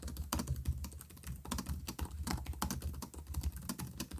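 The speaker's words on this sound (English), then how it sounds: "Now here's how it actually types." Typing on the built-in keyboard of a Razer Blade 16 laptop, a quick irregular run of close, soft clicking keystrokes heard alone.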